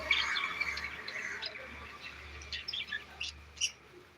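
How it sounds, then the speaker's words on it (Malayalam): Birds chirp and call after a light rain, scattered short tweets and squawks rising out of a faint, quiet outdoor background at moderate distance. "കിളികൾ നനഞ്ഞു"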